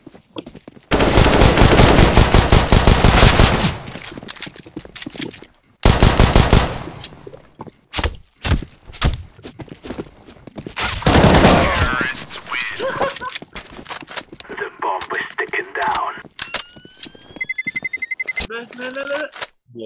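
Loud bursts of automatic gunfire from a CS:GO 2v2 match, two long rattling volleys early on, then scattered shots and clicks, with voices talking over the game.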